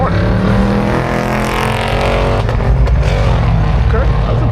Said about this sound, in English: that's impressive for a Mustang coming around the corner without getting loose